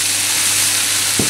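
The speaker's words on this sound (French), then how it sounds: "je vais le laisser cuire à feu moyen en mélangeant de temps en temps jusqu'à cuisson des légumes en fait" Vegetables sizzle steadily in a pan over medium heat, a close, loud, continuous frying hiss with a brief soft stir near the end.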